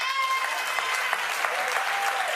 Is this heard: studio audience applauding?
yes